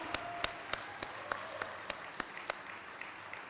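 Audience applause at an apprenticeship graduation ceremony, a steady wash of many hands clapping with a few sharper individual claps standing out, moderately distant and unbroken.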